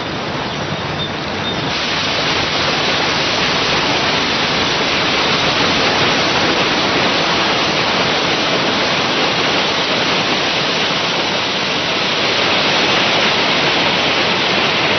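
Water flows at the source of the Jordan River in a loud, constant rushing roar, a dense unbroken wash of sound that stays steady from start to finish with no voices.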